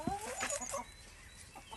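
Backyard chickens cluck softly in a short burst of a few rhythmic, throaty notes close by, then fade to quiet outdoor ambience with faint scattered clucks.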